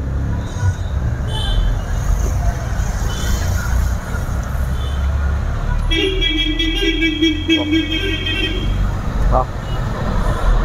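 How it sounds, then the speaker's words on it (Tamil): Road traffic rumbles steadily on a main road beside a Burmese food stall in Tirupur while a vehicle horn honks for a couple of seconds, with people talking over the noise. "மெயின் ரோட்டில் இருக்கிறனால இந்த வண்டி சவுண்டு, ஹாரன் சவுண்டில் கொஞ்சம் டிஸ்டர்பன்ஸாக இருக்குது நமக்கு."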